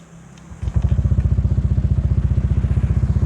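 Honda Vario 150 scooter fitted with a local aftermarket exhaust settles into a loud, steady idle after a short rev, with a rapid even low-pitched puttering pulse heard close up.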